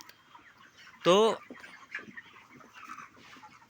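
Broiler chickens on a poultry farm: one loud squawking cluck stands out above a dense, softer background of clucking birds, with someone speaking briefly.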